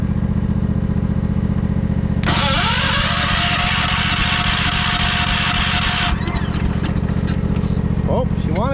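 A 1968 John Deere 140 lawn tractor engine cranks for several seconds, then catches and runs loudly up close, sputtering and revving unevenly as it settles, over a steady underlying hum.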